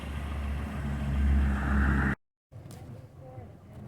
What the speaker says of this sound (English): Yep, step on the gas. I don't sound like a hot rod anymore.